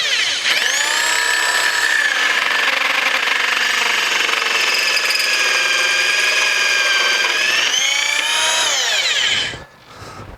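A tube notcher cuts a notch in metal tubing in a workshop, making a loud, sustained high-pitched grinding whine. It holds steady for about nine seconds as the motor spins up and winds down at each end, close by with no voices.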